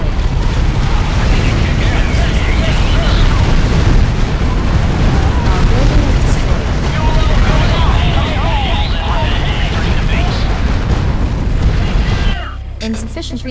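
Loud, dense battle noise from a base under attack in the mobile strategy game Art of War 3, with continuous explosions and booms layered over chaotic effects for about twelve seconds before dropping to quieter ambience.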